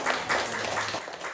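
An audience claps to close a lecture about quitting work, financial independence and the FIRE movement. The applause is a dense, steady patter filling the whole short moment, with no voices.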